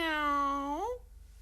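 A person imitates a cat with one long, drawn-out vocal meow that rises at the end and then stops, close and clear, with no other sound around it.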